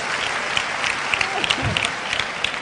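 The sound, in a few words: applause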